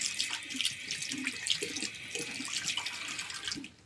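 Water runs steadily from a tap over a Philips SkinIQ Series 9000 electric shaver as it is rinsed, a continuous close splashing hiss that stops abruptly at the end.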